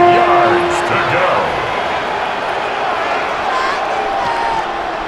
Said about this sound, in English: The crowd at Arrowhead roaring.